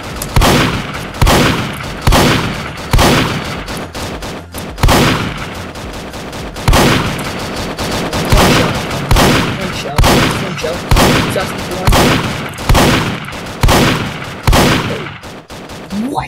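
Shotgun blasts in the Roblox game fire loudly one after another in an even rhythm, each sharp crack dying away quickly, with a short gap partway through.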